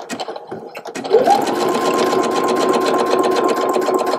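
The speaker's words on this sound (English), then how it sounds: "if I try to get this machine to go to its normal 7 millimeter width, let me show you what it does" A sewing machine with a twin needle stitching a zigzag set to its 7 millimeter width: a brief pause and handling, then a steady, loud, fast whirring run of stitches. A short spoken word comes near the start.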